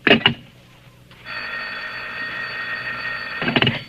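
An old-style telephone bell rings in one long, steady, shrill burst at moderate loudness, bracketed by brief clattery handling sounds before and after.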